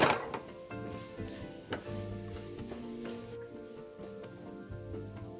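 Pork belly sizzles and fries in a pan, a steady soft crackle with occasional scrapes and knocks of a utensil against the cookware, fairly quiet and with no voices.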